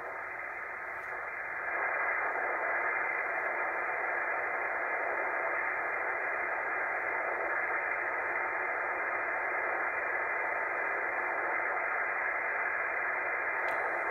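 An amateur radio receiver scanning the 40 m band gives a steady hiss of band-limited static that stays at a constant level, close and fairly quiet, with no voices or signals breaking through.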